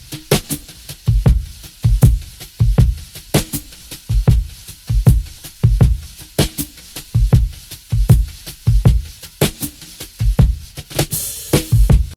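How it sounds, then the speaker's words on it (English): Drum break played with wire brushes on a drum set in an R&B style: a steady groove of soft kick thumps and swishy brushed snare and cymbal strokes, repeating in a loose rhythm, close and alone. "playing on that drum set over there with these wire brushes mixed and ready, we came out with a drum break that sounds like this."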